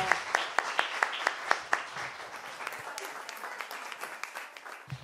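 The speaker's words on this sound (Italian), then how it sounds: "Qui con noi Laura Aramu, un bel applauso." Applause from a live audience at a talent show in Assemini, starting with a few sharp separate claps that grow into a steady round of clapping that thins out toward the end.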